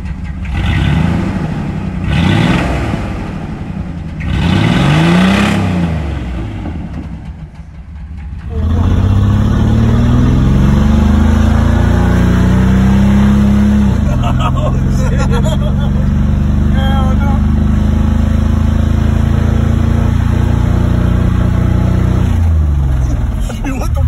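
A Chevy S10 pickup engine runs rough in repeated throaty revs, then settles into a loud, uneven, droning idle up close, with people talking over it.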